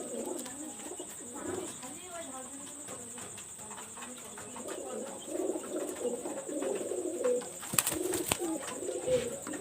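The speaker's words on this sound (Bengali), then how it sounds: "আরেকটা কবুতর আমি দেখাচ্ছি এটা নীলা কামাগার" A Nila Kamagar pigeon coos in repeated low, throaty bursts close by, growing busier toward the end, with crickets chirping steadily in the background and a brief clatter near the finish.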